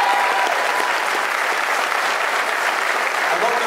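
A crowd at a political party congress claps loudly and continuously, dense steady applause filling the room without a break.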